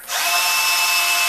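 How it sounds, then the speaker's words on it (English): A power drill whirs steadily as it drives square drive screws into wood while a rabbit show carrier cart is built, one loud, continuous burst lasting just over a second. "I love these square drive screws."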